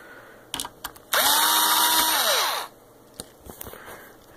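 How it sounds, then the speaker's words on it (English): A power screwdriver unscrews the screws on a Corsair K70 keyboard: one loud whirring burst of about a second and a half that spins up and winds down, with soft clicks and handling taps before and after. "Let's just get straight to the unscrewing"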